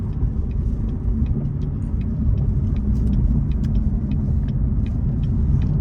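A C7 Corvette idles with its catalytic converters cut out, a deep, steady exhaust rumble heard up close and droning continuously, with no talking.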